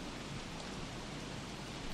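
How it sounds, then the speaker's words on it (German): Heavy rain pours steadily in the survival video game Don't Starve, a dense, even hiss that fills the whole stretch without a break and with no voices over it. "Und es regnet schon wieder in Strömen."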